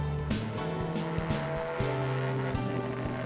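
Honda RC142 replica vintage racing motorcycle engine at Motegi, ridden gently by a veteran rider and not yet at full throttle, giving a steady droning hum with rising and falling tones throughout.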